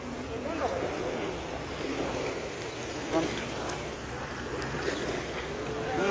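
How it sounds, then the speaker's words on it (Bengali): A boat ride on the water in Dubai carries a continuous engine hum and broad wash of water and wind, with people talking over it. "সবাই এখানে আর কি ভোট রাইড করে, আমরাও আসছি ভোট রাইড করার জন্য।"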